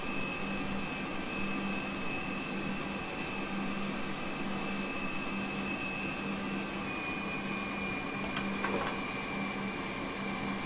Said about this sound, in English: great engine sounds